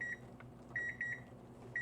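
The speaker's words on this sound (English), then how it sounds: "our timer is about to go off" A kitchen timer goes off during a yarn-dyeing session, giving four short, faint electronic beeps at an uneven pace over a quiet room hum.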